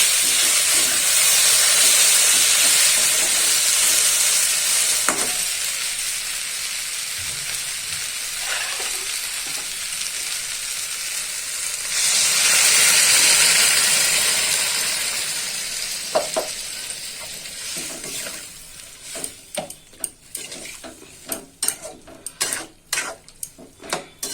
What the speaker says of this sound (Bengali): দেখো সয়াবিন টকবক করে ফুটছে